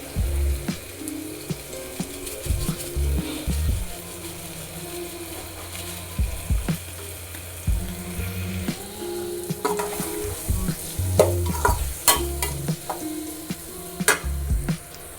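Vegetables for hotel-style veg fried rice sizzle in a pan with fried rice powder, soy sauce and chili sauce, a steady close frying hiss broken by scraping and clanking of a spoon stirring against the pan.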